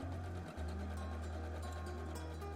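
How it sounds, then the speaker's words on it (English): A sewing machine runs steadily, stitching two pieces of fabric wrong sides together within the seam allowance, a low even hum after a brief start, heard alone and fairly quiet. "you sew them wrong sides together within the seam allowance."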